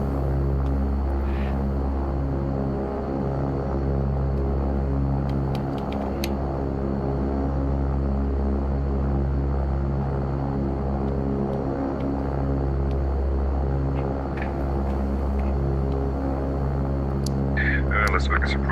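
A Beechcraft King Air 350 twin turboprop in X-Plane 12 holds a steady, loud engine drone with deep rumble and a constant tonal hum as it rolls for takeoff, with a few faint clicks over the top.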